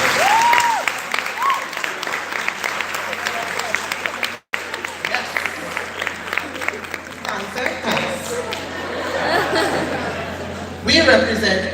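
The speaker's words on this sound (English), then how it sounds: "Give us a round of applause for that." A room of former classmates at a class-of-1969 career day claps in a long round, broken by a brief gap, with chuckles and chatter mixed in and a surge of clapping near the end.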